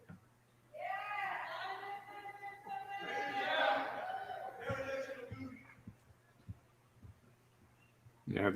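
A restless crowd at a school board meeting in Uvalde, a swell of overlapping voices and murmuring that rises and falls, then thins out to scattered noises before a burst of sound at the end.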